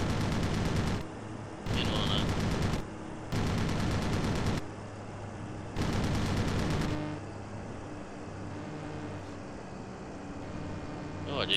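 Aircraft machine-gun fire in a flight combat game, several loud sustained bursts with brief gaps, followed by steady engine drone, with voices talking over it.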